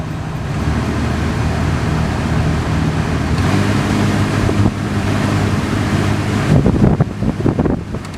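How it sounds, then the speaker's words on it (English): A steady, broadband roar with a low droning hum runs throughout, loud and continuous, like a Nissan Pathfinder's air conditioning compressor churning with some wind buffeting. "So the compressor kicks on"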